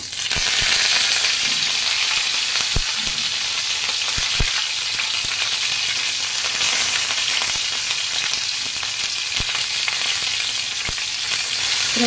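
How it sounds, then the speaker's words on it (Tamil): Cinnamon and curry leaves fry in hot oil for a mutton stew, making a loud, dense, continuous sizzle with occasional crackles and pops and no voices. "பட்டை போட்டதும் இதில் வந்து கொஞ்சோல கருவேப்பிலை போடுறேன்"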